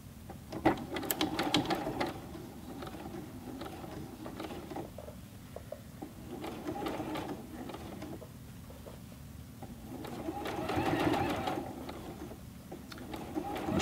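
A Juki G210 box-feed sewing machine hems the leg of denim jeans, a steady, moderately loud mechanical whir and rattle with swelling bursts of stitching, close and without talk.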